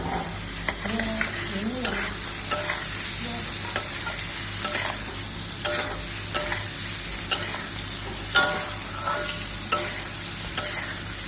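Paneer frying in melted butter in a pan gives a steady sizzle and hiss, broken by sharp scrapes and clicks of a spatula stirring the cubes at irregular moments, heard up close.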